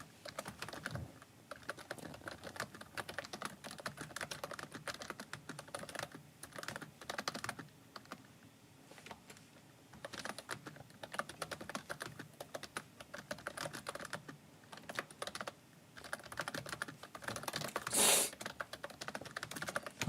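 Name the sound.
typing on a computer keyboard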